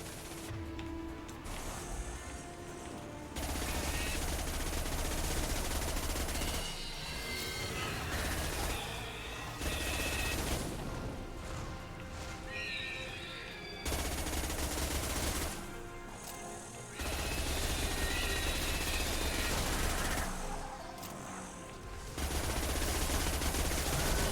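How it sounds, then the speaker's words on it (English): Bursts of automatic gunfire in the video game Mass Effect 2, loud and sustained in several volleys separated by short quieter gaps, with scattered impacts and game effects between. "Stop shooting, Shepard."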